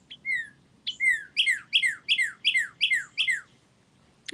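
Birds chirp outdoors in a residential neighborhood, a run of about eight sharp, bright downward-sweeping calls repeating evenly and close by over faint background noise.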